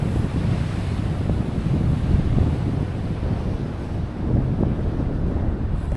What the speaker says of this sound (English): So I'm on the break point where the waves break.